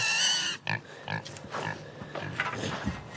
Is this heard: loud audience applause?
no